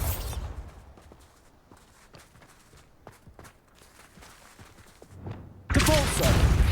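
In Hogwarts Legacy, soft scattered steps and small ticks sit over quiet ambience until a Bombarda spell blast hits suddenly near the end and stays loud, a wide crackling roar.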